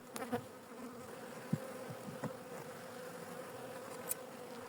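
Honeybees buzzing at the hive entrance during a spring hive inspection, a faint steady drone with a few individual bees passing close by.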